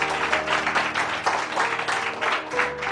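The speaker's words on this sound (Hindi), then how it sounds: "आपकी तालियां छोटी है।" A church congregation claps during a Hindi sermon, a continuous wash of applause over a faint droning musical backing, moderately loud and steady.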